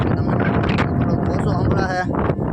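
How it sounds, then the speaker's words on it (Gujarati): Steady blustery wind buffets the microphone, a constant low roar with gusts, while people talk underneath. "ઉપર પવન તો વધારે"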